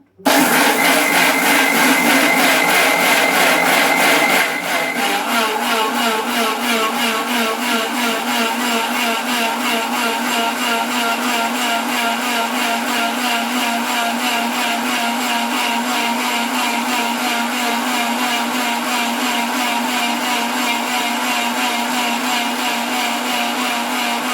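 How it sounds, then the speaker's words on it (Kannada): A mixer grinder grinds rice batter, running loud and steady, a harsh whirring drone that shifts slightly in pitch after a few seconds and then continues unbroken. "ಇದನ್ನಿವಾಗ ನೈಸಾಗಿ ಮಿಕ್ಸಿ ಮಾಡ್ಕೊಳ್ಳೋಣ"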